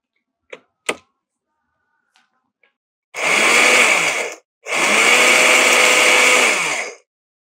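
After a few clicks and taps, a blender grinding lupin beans whirs loudly in two bursts, a short one and then a longer grinding run, before stopping.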